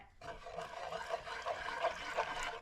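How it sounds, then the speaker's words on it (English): Cold water is poured into a pot of gravy mix with cornstarch, a soft, close, steady trickling splash lasting a few seconds. "So you're going to add your water and start mixing"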